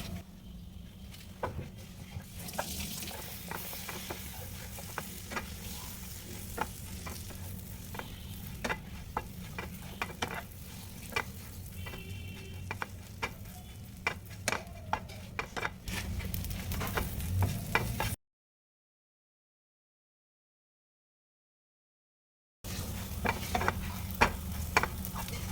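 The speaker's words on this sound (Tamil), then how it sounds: "திருப்பி நம்ம வறுக்க போகிறோம்" A bread snack fries in a pan with a continuous sizzle and repeated light scraping of a stirring utensil, broken by a few seconds of silence before the frying resumes.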